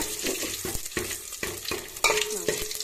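Mustard seeds, dried red chillies and garlic tempering in hot oil for a village-style sambar, with a steady crackling sizzle, stirring scrapes and a sharp spluttering burst partway through, close and alone.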